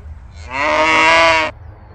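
A single long cow moo, loud and close, lasting about a second over faint background noise.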